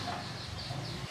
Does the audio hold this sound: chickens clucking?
yes